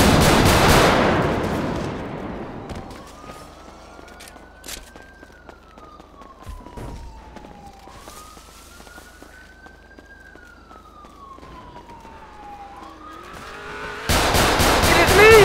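Video game gunfire in a street gang shootout, sharp short bursts scattered across the scene with siren-like rising and falling wails and car engine noise in between, loud at the start and end.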